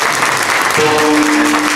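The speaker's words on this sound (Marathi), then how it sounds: "आणि आपल्या गायनाचार्यांसाठी सुद्धा जोरदार टाळ्या झाल्या पाहिजे." An audience claps loudly for musicians and a singing master at a live devotional music event, dense close applause throughout with a brief sustained musical tone joining partway.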